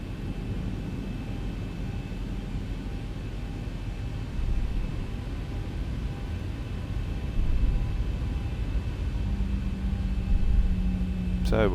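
A Boeing 737 taxiing in X-Plane 11 gives a steady low engine rumble with a faint whine, which swells slightly now and then; a rising tone sweeps up near the end, and no voice is heard.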